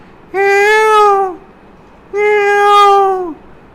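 A human voice gives two long, wailing cries with a pause between them, imitating a peacock's call, close and loud.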